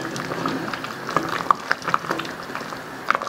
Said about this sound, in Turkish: Yavaş yavaş yemeğimiz pişmeye devam ediyor.